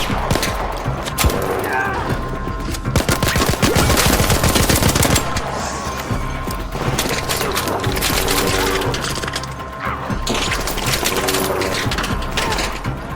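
Rapid automatic gunfire and bursts of shots in the video game Arc Raiders, loud and dense, with impacts and breaking sounds mixed in and little voice.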